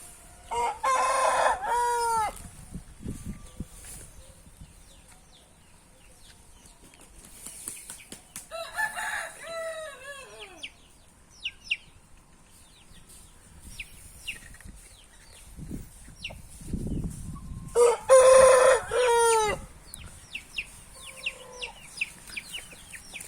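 Several native country chickens on a meat-breed farm near Vizag cluck and a rooster crows loudly a couple of times, with softer clucking and faint bird calls filling the gaps.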